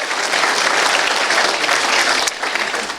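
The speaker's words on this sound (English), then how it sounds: "So if you can give Brian a round of applause, I think he deserves it" Loud, dense audience applause for Brian, a full crowd clapping continuously for about three seconds, close and even with no talking.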